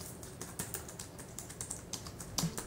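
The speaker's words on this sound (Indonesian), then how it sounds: "Ngetik di si bongsor udah pasti paling nyaman karena luas, key travel dalam, dan jarak antara tombolnya proper." Close typing on the keyboard of a wireless combo set, giving quick irregular key clicks in a steady stream with no speech.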